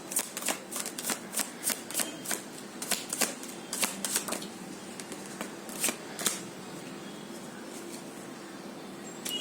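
Cards are shuffled close by in a quiet room, a quick series of crisp riffling clicks and flutters that come in short irregular bursts over several seconds.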